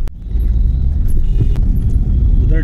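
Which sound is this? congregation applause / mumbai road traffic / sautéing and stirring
mumbai road traffic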